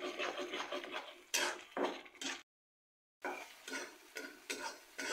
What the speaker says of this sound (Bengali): এটাকে মিডিয়াম আঁচে প্রায় 10 মিনিটের মতো ভাজতে হবে।